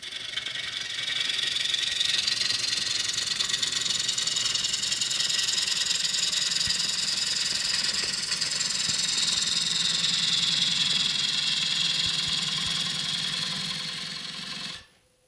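A wood lathe spins at 700 RPM while a bowl is turned, producing a steady whirring drone with a broad hiss of cutting, continuous and close before stopping abruptly at the end.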